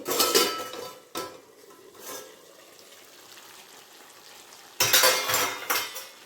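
A metal plate cover lifted off a pot of simmering desi chicken curry gives sharp clanks of metal on metal, with softer scrapes and bubbling between them; no voices.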